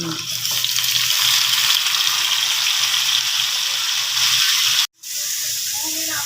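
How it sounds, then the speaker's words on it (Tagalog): Shrimp and softened papaya frying in a hot pan, giving a steady, dense sizzle that runs unbroken with a brief dropout near the end before resuming. "Medyo malambot na ang papaya ilagay ko na ang hipon."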